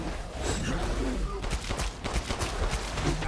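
Gunshots in the survival horror game Resident Evil Village, a rapid string of close, punchy shots fired in quick succession over a noisy, rumbling background.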